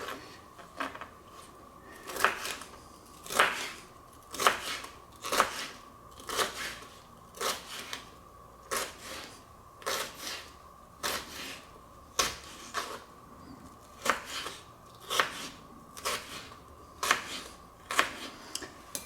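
Steady, evenly spaced knife chops slicing a pepper into slivers on a cutting board, about one cut per second, close and fairly quiet with no talking.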